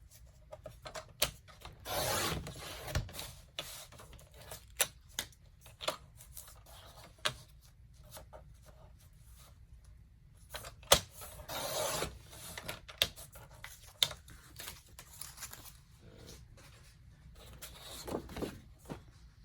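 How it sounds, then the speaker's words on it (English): Paper is trimmed off a Christmas mini album cover with a cutter, producing scraping, rasping strokes and scattered clicks at irregular intervals, quiet and close, with no talk. "I'm going to trim about 1 inch off."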